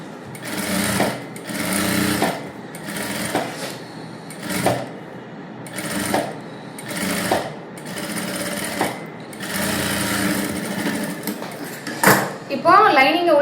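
A sewing machine stitches the lining of a princess-cut blouse in a series of loud, close, rattling bursts separated by short pauses, with someone talking between and over them.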